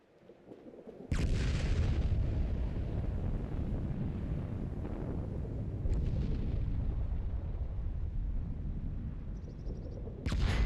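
Airstrike explosions in the video game Fallout 76: a sudden heavy blast opens into a long, loud, rumbling roar that stays dense throughout, with a second sharp burst near the end.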